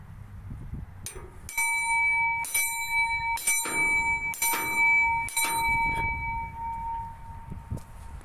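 A loud metal bell on a park play structure is struck repeatedly with a lever, giving five or six hard, ringing clangs at a steady pace, each with a sustained metallic tone that lingers and decays between strikes.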